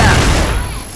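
A loud grenade blast in a first-person shooter game, the roaring burst already underway and slowly decaying over about a second, close and dominant.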